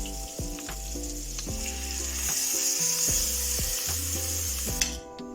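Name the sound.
mackerel frying in hot coconut oil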